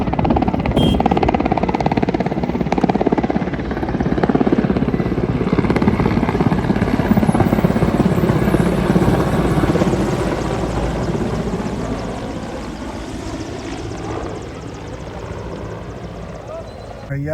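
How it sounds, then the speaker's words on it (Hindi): A helicopter flies over a huge outdoor rally crowd, its steady rotor and engine roar loud and sustained throughout, easing slightly toward the end, with voices talking beneath it. "पाँचम 5th हेलीकॉप्टर है।"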